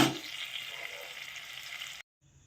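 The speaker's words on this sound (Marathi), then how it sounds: "अशा प्रकारे आपली वांग्याची भाजी फोडणीला टाकली" Brinjal curry sizzles in hot oil tempering, a loud steady frying hiss that runs unbroken and then cuts off abruptly.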